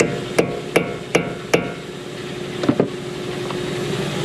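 Four evenly spaced metallic hammer knocks ring out on a Toyota Corolla wheel hub, then a quick pair of lighter taps, over a low background hum.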